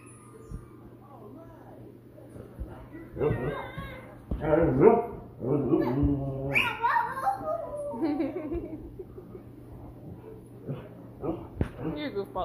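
A child makes yipping, whimpering dog-like noises, imitating a puppy in short bursts, with an adult talking in between.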